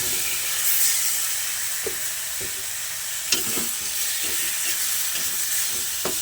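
Pork for binagoongan sizzles in a pan, a steady close frying hiss broken by scattered scrapes and taps of stirring, with no talking.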